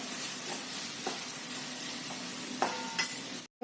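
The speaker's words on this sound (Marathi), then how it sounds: "एक टोमॅटो बारीक चिरून घालायचं मध्यम याचेवरती हे छान परतून घ्यायचंय" Chopped tomato added to softened onion and sautéed in a pan for dal khichdi, a faint steady sizzle with scattered light spatula scrapes and clinks against the pan.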